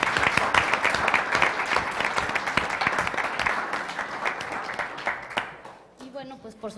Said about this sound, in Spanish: el excelentísimo señor Munjed Saleh, a quien les pido por favor que recibamos con un fuerte aplauso